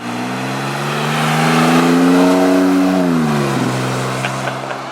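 A Jeep Wrangler JL fitted with a Magnaflow exhaust revs up close, its deep droning tone climbing steadily, holding, then dropping back to idle, loud and alone.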